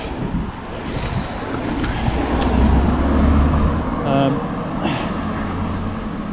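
Car passing on a narrow B road in rural Wales, a broad low rumble swelling up and easing off under heavy wind buffeting on the microphone, with a voice talking over it.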